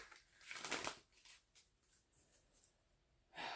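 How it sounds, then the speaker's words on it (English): Oracle cards shuffled by hand, a soft rapid riffling burst followed by quieter sliding and rustling of the deck, with another burst at the end, close and faint. "Go ahead and shuffle"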